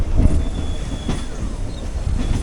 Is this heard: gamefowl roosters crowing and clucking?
no